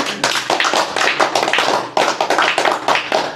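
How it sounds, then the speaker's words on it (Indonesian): An audience claps at a religious talk, with dense, brisk hand claps close by and fairly loud, in an uneven rhythm throughout with no voices. "Tepuk tangan dong."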